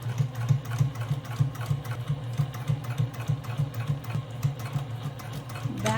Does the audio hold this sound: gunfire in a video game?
no